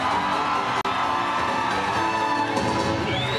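An audience at a Universal Studios dog show cheers for a dog named Eddie, with a loud, sustained wash of shouts and whoops and a brief dip early on.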